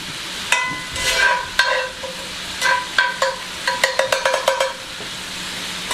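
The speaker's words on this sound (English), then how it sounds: "These onions are nice and cooked down. I'll throw about half of them." Cooked-down onions being stirred into steak frying in a small skillet for cheesesteak sliders: a steady sizzle runs under repeated scraping and clinking stirs, ending in a quick burst of taps and scrapes near the close, with no talking.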